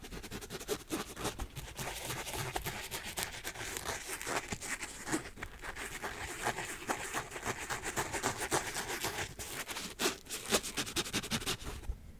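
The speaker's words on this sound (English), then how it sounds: "And with the tongue, you kind of like this mesh. Gets a nice scratching out of it." Fingernails scratch the mesh tongue of a Jordan sneaker close up in a quiet room, a continuous dry rasping and rubbing with uneven strokes and small crinkly bursts.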